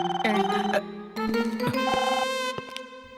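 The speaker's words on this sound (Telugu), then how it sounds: "ఫోన్ లిఫ్ట్ చేయి" A telephone rings with a bright electronic tonal melody, sustained tones broken by a short gap, heard fairly close in an indoor scene.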